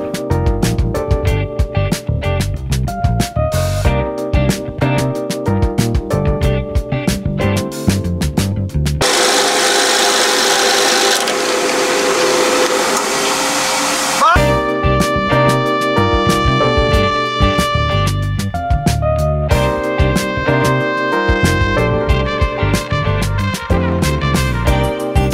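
A skateboard-wood pen blank spins on a lathe as carbide turning tools cut it, making a steady scraping hum that breaks into a rushing, hissy whine in the middle section before the rhythmic cutting returns.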